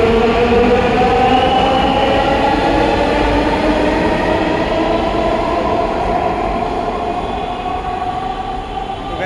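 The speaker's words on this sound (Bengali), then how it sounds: "এখন আমাদের মেট্রো রেল কিন্তু আসে বারবার, প্রতি 3 মিনিট অন্তর একটা করে ট্রেন আসে মেট্রো রেল।" A metro rail train at an elevated station gives a loud, steady rumble close by, with whining motor tones that slowly shift in pitch over several seconds.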